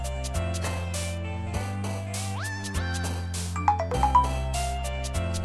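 Phone notification ringtone, a melodic electronic jingle of bright synth tones with rhythmic repeated bass notes and rising pitch slides, loud and close, with no speech over it.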